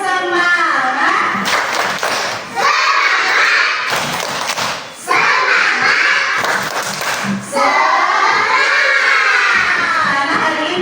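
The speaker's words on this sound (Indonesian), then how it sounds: "Kita tepuk semangat dulu ya." A classroom of schoolchildren performs the 'tepuk semangat' spirit clap, loud rhythmic clapping and thumping in repeated bursts mixed with their chanting and shouting voices.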